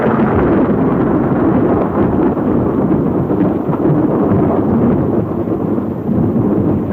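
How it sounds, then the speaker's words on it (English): An atomic bomb blast wave reaches trenches as a continuous, loud, rumbling roar of low thunderous noise, sustained without break for several seconds. "Seconds later, the blast wave reaches the trenches."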